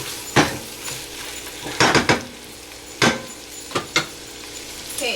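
Goat meat being stirred with onions and ginger garlic paste in a cooking pot, a spoon scraping and clanking against the pot in irregular bursts of close, fairly loud knocks, with no talking.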